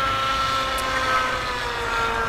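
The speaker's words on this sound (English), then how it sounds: "Fall on the side of the helicopter so it doesn't have any control." A helicopter flies aerobatic maneuvers, including a knife-edge sideways fall, at an air show. Its rotor and engine make a continuous whining drone that holds steady, close and fairly loud, with no talking.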